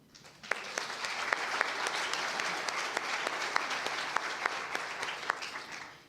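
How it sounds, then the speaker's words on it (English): Audience applause at a 4-H Hall of Fame induction ceremony rises quickly into steady, moderately distant clapping with a few sharper individual claps standing out, then fades at the end. "would you please wave for special applause"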